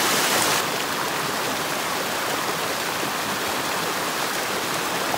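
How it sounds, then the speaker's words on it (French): A mountain torrent rushes beside a bivouac spot, a loud, dense and continuous roar of flowing water with no break or change throughout. "On est près du torrent qui est là."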